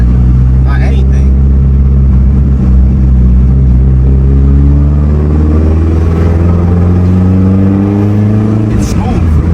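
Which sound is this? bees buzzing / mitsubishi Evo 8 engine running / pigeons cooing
mitsubishi Evo 8 engine running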